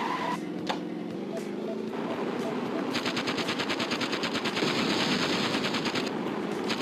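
Vehicle-mounted guns fire in the Interstate 76 car combat game, a sustained rapid rattling burst that grows denser and louder partway through over a steady engine-like rumble.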